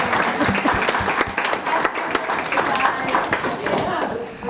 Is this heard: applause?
yes